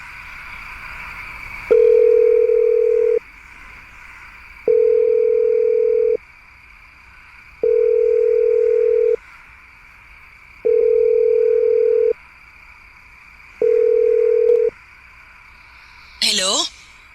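A telephone ringback tone sounds while a call is placed, five evenly spaced steady beeps over a constant background hum, ending with a short rising electronic chirp.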